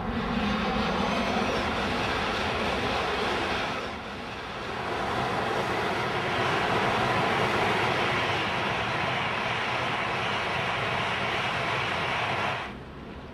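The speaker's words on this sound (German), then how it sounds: "ein ICE unterwegs nach Berlin" An ICE high-speed train travels through snow toward Berlin with a loud, steady rushing roar that dips briefly partway through and drops off at the end, with no voices.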